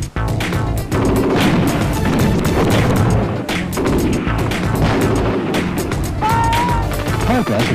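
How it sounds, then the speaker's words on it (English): Mortar rounds exploding on an enemy position in a wartime training film, a loud continuous barrage of booms and crashes layered with music, with a brief whistling tone near the end. "Mortar fire is brought down on the enemy position."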